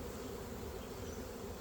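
A dense, steady buzz of many honey bees flying around nearby, a continuous droning hum with no voices.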